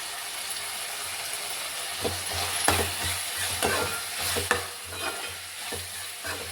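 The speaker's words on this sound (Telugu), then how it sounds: "అలాగే అల్లం వెల్లుల్లిపాయ పేస్ట్ కూడా ఫ్రై చేస్తున్నాను." Coriander and ginger garlic paste fry in a pan with a steady hiss and sizzle, punctuated by occasional scraping knocks of a spoon stirring, close and fairly loud with no talking.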